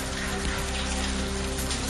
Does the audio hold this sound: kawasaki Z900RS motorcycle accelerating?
no